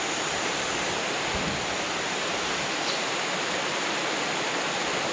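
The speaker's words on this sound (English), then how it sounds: "just over the end there is where the waterfall is" A waterfall in the Australian bush tumbles over rocks, heard as a constant, even broadband roar with no breaks, close and steady for the whole stretch.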